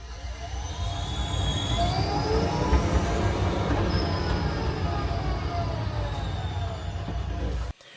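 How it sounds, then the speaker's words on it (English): A Citroen Ami's uprated alternator drive belt squeals as it slips, a continuous loud screech with rising and falling whines over a steady mechanical rumble, cut off abruptly near the end. "basically the drive belt is squealing like hell"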